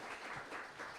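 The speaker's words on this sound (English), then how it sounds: "It really is wonderful to get applause before you even begin" Audience applause in a hall before a rabbi's talk, a steady dense wash of many hands clapping at moderate volume, continuous across the moment with slight swells and no voices.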